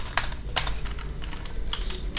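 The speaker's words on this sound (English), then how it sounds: "by typing the command interface port" Bursts of quick, crisp keystrokes on a computer keyboard as a networking command is typed, close and clear over a low background hum.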